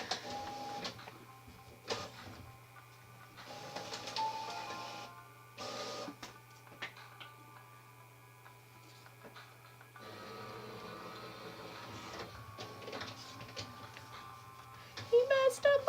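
A home printer runs a fax-sending attempt, whirring and clicking in uneven mechanical bursts over a steady low hum, with a person talking over parts of it.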